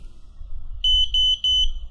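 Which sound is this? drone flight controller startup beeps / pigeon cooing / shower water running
drone flight controller startup beeps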